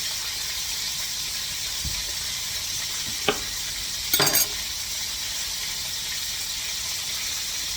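Chopped onion sizzles steadily in a hot pan for cube steaks, a constant loud frying hiss broken by a couple of brief clinks and a short stir, with no talk.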